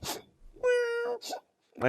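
A single drawn-out mournful cat meow, clear and close, set between short bits of a person speaking.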